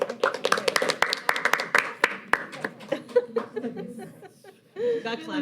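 Scattered hand claps ring out for a couple of seconds at a high school district board meeting amid chatter and a few chuckles, then fade as talking takes over.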